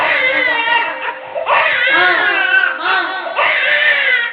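A person's voice imitates a baby crying loudly, rising wails with breaks between them, a strained infant-like sob repeated in several bursts while telling a story, close and alone.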